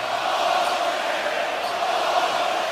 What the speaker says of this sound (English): Crowd voicing their displeasure.